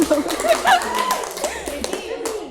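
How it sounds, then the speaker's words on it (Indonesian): Applause from students in a classroom during a social studies quiz lesson, with a burst of hand clapping mixed with voices and chatter. "Beri tepuk tangan."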